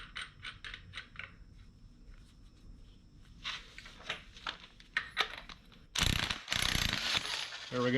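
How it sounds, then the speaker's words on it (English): A ratchet clicks steadily as a puller draws the harmonic balancer pulley off an LSX engine crankshaft, close and crisp, followed by a louder burst of metallic clatter as the pulley comes free. "By far the easiest way to pull a pulley off of an LS based motor"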